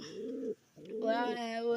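Pigeons coo close by in a series of low, throaty notes, with a brief pause before a higher, brighter bird call joins the continuing cooing.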